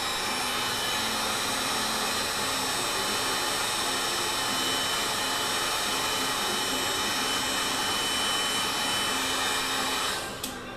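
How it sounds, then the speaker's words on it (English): A heat gun blows steadily on heat shrink tubing over a crimped ground wire terminal during dash wiring, a loud, close, continuous whooshing hum that cuts off near the end. "just going to throw the heat gun on it"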